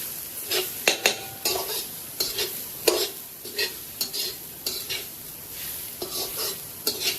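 Dry coconut roasting in a pan for a Malvani village-style chicken recipe, with repeated scraping stirs of a spatula and a soft sizzle underneath, in an irregular rhythm of close strokes.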